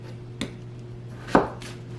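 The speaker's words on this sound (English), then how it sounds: "we're going to go ahead and get these potatoes cut to get them ready to boil" A knife slicing peeled potatoes into quarters on a board, two distinct chops, the second louder, close up over a steady low hum with no talking.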